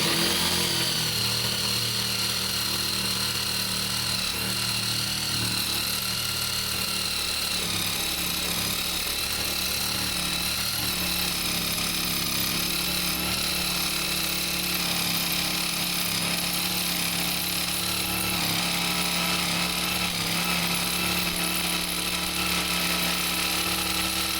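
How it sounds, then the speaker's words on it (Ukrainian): A GTM JS18/65 cordless jigsaw cuts along a line through a wooden board, giving a loud, continuous, rasping, buzzing whine that holds steady for the whole stretch. "Пробую наскільки чітко зможе ось таку дошку врізати по лінії."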